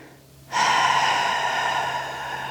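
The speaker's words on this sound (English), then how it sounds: "So go ahead and take an exhale." A single long, steady exhale begins abruptly and holds at an even, fairly loud level for about two seconds, close to the listener and alone. It is a controlled breath during a pelvic floor tension exercise for climbers.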